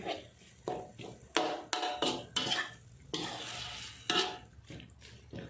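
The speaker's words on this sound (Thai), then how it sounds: "อันนี้เนื้อก็แตกตัวแล้วนะคะ เดี๋ยวไปตองก็คั่วไป จนกว่าเนื้อจะแห้งดีเลยนะคะ" Minced beef dry-fried in a pan without oil for Thai khua kling, heard as repeated close spatula scrapes and stirring bursts over a faint sizzle, with no voices.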